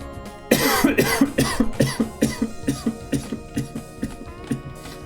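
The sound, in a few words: cough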